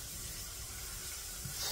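Food sautés in a pan on the stove with a quiet, steady sizzling hiss that stays even and fairly faint throughout.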